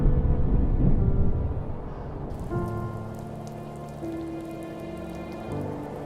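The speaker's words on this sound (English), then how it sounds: "now it's gonna rain" Steady rain pattering on a surface in the video game The First Tree, a dense hiss that fills the whole stretch alone, with a soft musical drone and tones rising beneath it partway through.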